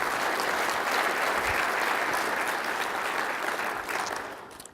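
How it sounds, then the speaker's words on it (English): Sustained applause from a conference audience at a renewable fuels summit in Iowa, a dense steady roar of many clapping hands that holds level before tapering off at the end. "let's have a big round of applause for Lucy putting on another great summit."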